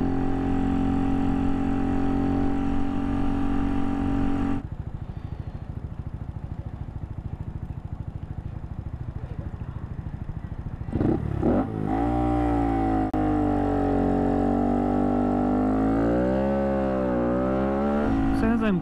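A Honda Monkey motorcycle is ridden, its small engine droning steadily up close, easing off, then revving and shifting through rising and falling pitch, loud and continuous throughout.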